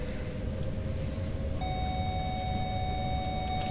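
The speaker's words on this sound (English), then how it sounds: "Then in intervals the beeping and flashing, so that we get reminded of something that is upcoming." A Euro-Signum cab warning in a Swiss train sounds as a steady electronic tone that starts partway through and holds over the low, constant rumble of the cab.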